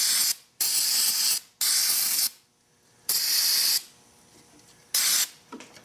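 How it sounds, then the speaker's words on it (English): Four loud bursts of brake cleaner aerosol spray hiss, each about a second long, separated by short silences, close to the listener, sprayed over a motorcycle master cylinder. "spray it down with some brake cleaner"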